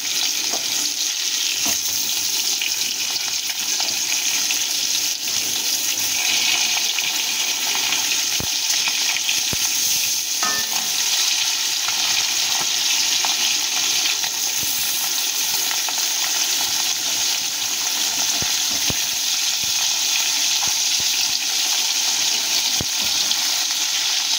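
Hilsa fish frying in a pan: a loud, continuous bubbling sizzle with an occasional faint pop, going on steadily without any voices.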